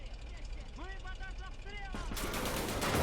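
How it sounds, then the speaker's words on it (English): Gunfire in the WWII Eastern Front strategy game Call to Arms: Gates of Hell, a steady crackle of shots under game voices, swelling into a loud sustained roar of fire toward the end. "I feel like we're just shooting over here."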